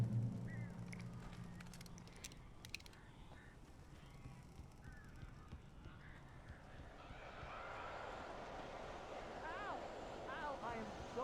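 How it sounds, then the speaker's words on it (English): Strange birds trapped indoors after getting in through a chimney in the game Alan Wake Remastered, with honking, squawking calls scattered over a steady noisy background while people speak throughout. "A couple of them got in here before I blocked the chimney. This isn't normal. These birds are weird."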